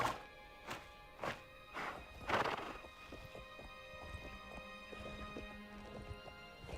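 In the video game The Elder Scrolls IV: Oblivion Remastered, a horse's hooves clip-clop in a few heavy, spaced strikes, followed by quieter, scattered clattering steps and a low steady hum underneath.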